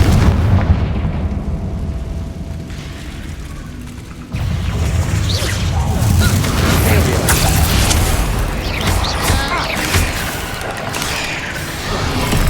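A Confringo fire spell explodes in the Hogwarts Legacy video game, a sudden loud booming blast followed by rumbling, crackling debris and continued fiery roar, dense and close.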